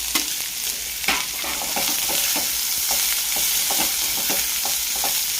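Two or three chopped onions fry in a hot tempering of curry leaves and garlic for tomato chutney, giving a loud steady sizzle broken by repeated scraping strokes of a stirring spoon.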